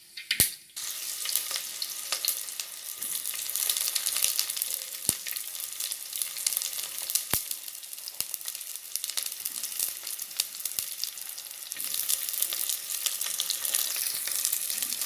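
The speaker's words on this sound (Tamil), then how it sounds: "எண்ணெய் காஞ்சோன்னா கடுகு போடலாம். கடுகு போட்டேன்." Mustard seeds and onions sizzle loudly in hot oil, a continuous bright crackling hiss with scattered sharp pops, heard close up.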